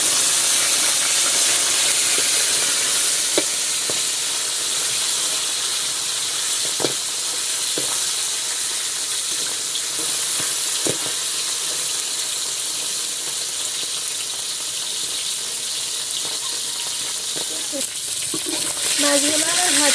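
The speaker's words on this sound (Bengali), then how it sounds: "মাছগুলো আমার ভাজা হয়ে গেছে" Battered fish frying in hot oil gives a steady, bright sizzle and hiss throughout, with a few soft clicks of handling and a brief burst of bubbling near the end.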